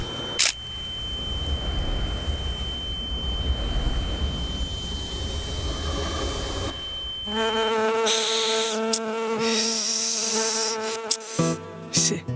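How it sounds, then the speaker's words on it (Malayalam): A fly buzzing close by with a steady drone for several seconds, after which bright musical tones take over. "ഈച്ച"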